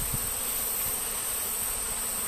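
Bees buzz steadily around a top bar hive during a hive transfer, a dense continuous insect drone filling the whole stretch with no speech over it.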